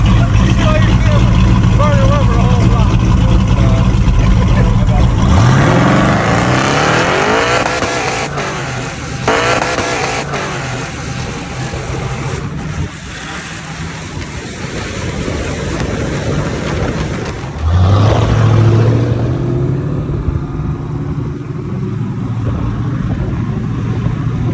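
A 1978 Chevrolet Caprice Classic Aerocoupe being driven, its loud engine roaring and droning steadily close by, pitch rising as it revs and accelerates, with brief surges and wind noise throughout.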